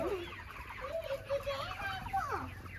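Chickens on a poultry farm cluck and call softly and fairly close, with a continuous low farm hum and a voice talking over them.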